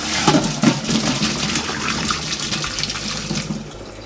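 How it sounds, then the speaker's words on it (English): Starchy water from boiled potatoes pours and splashes steadily into a sink or receptacle, a continuous gushing rush lasting a few seconds. "one for reserving some water from the potatoes and another for draining the rest of them."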